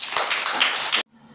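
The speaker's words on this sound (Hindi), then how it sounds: "ताली बजाओ" Group of children clapping hands together in a classroom, a dense burst of applause lasting about a second before stopping abruptly, leaving faint room noise.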